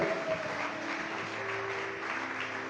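A church congregation applauds during a Sunday worship service, a steady, fairly distant wash of many hands clapping over a faint low hum.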